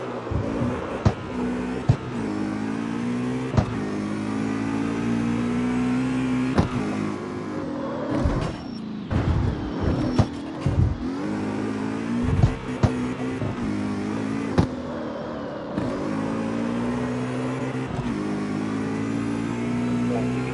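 A BMW races in the video game CarX Street, its engine revving and shifting through rising and falling tones, loud and continuous with a few brief drops and sharp clicks along the way.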